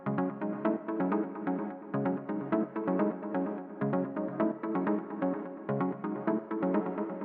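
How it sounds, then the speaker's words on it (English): Pluck lead synth from a deep techno track plays a repeating, looping pattern of short, bright stabs in an even groove, dense and mid-heavy, with no other sounds. "the next thing that we have here is this main sort of lead synth, which sounds like this"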